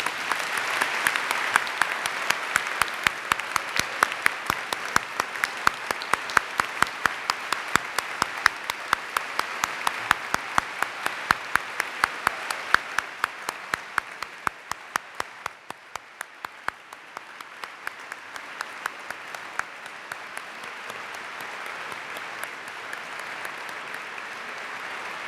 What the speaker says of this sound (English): Please join me in a final round of applause for our Wisconsin Teachers of the Year and Friends of Education.